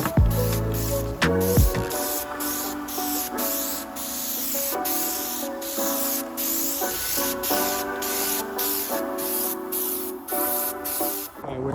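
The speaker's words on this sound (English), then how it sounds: "cleaning up the gun so we can spray again" Continuous loud hissing spray from a spray gun applying gelcoat to a boat console, pulsing in regular short bursts with a steady mechanical whine underneath.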